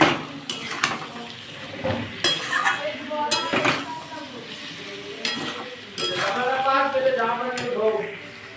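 Spices with salt sautéed in oil in a pan for raw banana kofta curry, giving a sizzle under repeated clinks and scrapes of a spoon against metal, with a person talking throughout.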